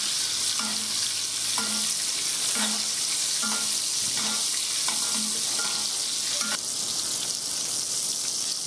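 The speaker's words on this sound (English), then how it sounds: "Do some butter basting." Thin pork chops sizzle steadily in a pan of butter while a spoon bastes them with soft, regular scraping strokes about once a second under the constant frying hiss.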